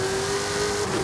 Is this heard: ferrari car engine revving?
yes